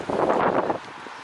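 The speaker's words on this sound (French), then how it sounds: "il y a beaucoup de vent" Strong gusts at an outdoor market in Portugal buffet the microphone with a loud, rushing roar that swells, then eases to a softer steady hiss.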